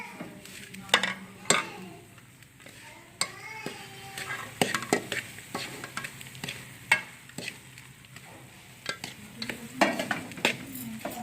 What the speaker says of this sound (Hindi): अब हम इसमें सीरा डालेंगे। और इसे मिक्स करते जाएंगे।